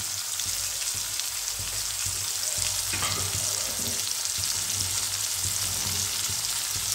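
Garlic frying in oil while making a Bengali fish-head kalia, a steady loud sizzle and crackle running unbroken throughout with no voices.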